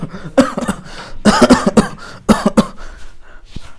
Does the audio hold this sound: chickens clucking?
no